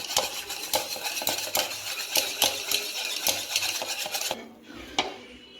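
A hand whisk stirs milk and vinegar in a bowl with quick rhythmic metallic scraping and clinking strokes, close and steady, before a short pause and a final clink.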